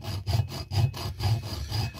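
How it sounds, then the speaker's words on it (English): A hacksaw cuts into a 50/50 metal can capacitor in steady back-and-forth strokes, about four or five rasping passes with a heavy low grind, close and alone. "I think I'm going to try to just do this with a hacksaw."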